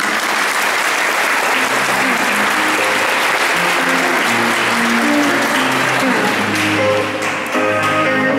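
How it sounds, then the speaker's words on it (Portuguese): Steady, sustained applause fills a graduation ceremony for a third-year class in Pingo D'água, Minas Gerais, a dense crowd clapping continuously at full volume throughout, with no talk over it. "Palmas para ela."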